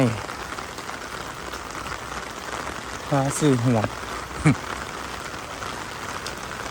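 Rain falling in Korea, a steady hiss of drops on surfaces running throughout, with a few brief squeaky sounds and a soft voice briefly over it.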